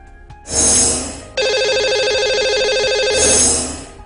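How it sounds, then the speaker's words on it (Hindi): A telephone rings in a radio studio while a call is placed to a listener, with bright warbling electronic ring bursts, loud and close, three pulses in quick succession with no talk. "तो लगाते हैं इन्हें कॉल और करते हैं बात।"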